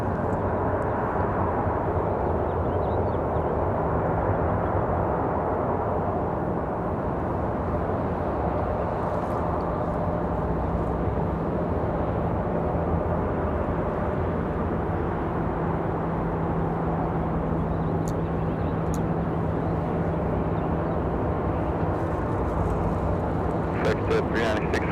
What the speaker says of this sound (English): 737 right here is pretty loud.